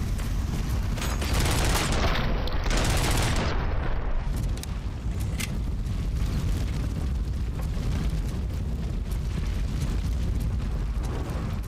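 Gunfire in the video game Robocop: Rogue City, a dense, unbroken roar of rapid shots and impacts that stays loud and close throughout with no gaps.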